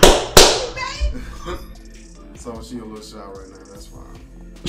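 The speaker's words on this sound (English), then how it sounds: "Give a quick hand of applause." A fiancée gives a quick round of hand claps, a few sharp nearby smacks at the start, before voices talk over the rest.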